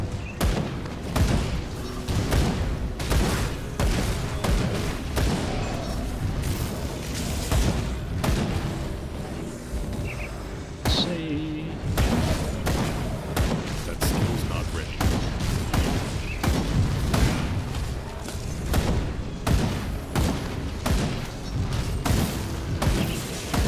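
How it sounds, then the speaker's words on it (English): Dense, continuous combat in the action RPG Grim Dawn, with rapid booming blasts and thuds from a boss firing grenades, explosions piling over one another for the whole stretch, loud and close, with a voice talking over the din. "It's firing grenades at me."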